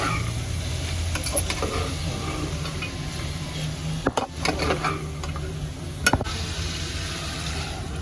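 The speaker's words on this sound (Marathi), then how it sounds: "ढवळून घ्यायचं" A spoon scrapes and stirs through a jackfruit-seed dish with tempering and water in a pot, a soft sizzle underneath, punctuated by a couple of sharp clinks against the metal.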